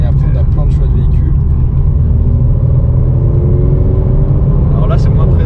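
Synthetic engine note of a Renault Clio 4 RS Trophy, 220 hp with dual-clutch automatic, played through the car's cabin speakers, a steady loud low drone with a slowly rising revving tone, the engine rumble continuous throughout.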